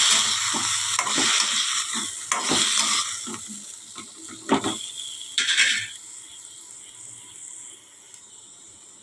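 Roughly chopped medium tomatoes dropped into a pan of fried green chilies for a village-style chutney, hissing and sizzling loudly with bursts of spoon stirring and scraping, the sizzle settling to a steady quieter frying toward the end.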